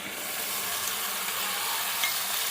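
Onion paste frying in a pan with cumin for street-style pav bhaji, a steady close sizzle and hiss with faint stirring, no voices.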